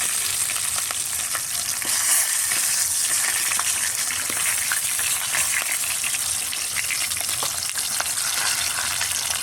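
Dagupan milkfish (bangus) fries in oil in a pan, a steady, close crackling sizzle with scattered pops throughout and no talk.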